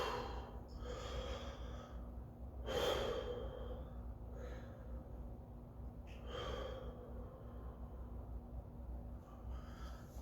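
Slow, deep breaths taken while bent forward about 90 degrees in a hamstring stretch: a few soft, airy inhales and exhales spaced several seconds apart, close and quiet over a low steady hum.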